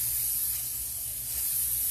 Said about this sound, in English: Okay, so I'm going to spray the bottom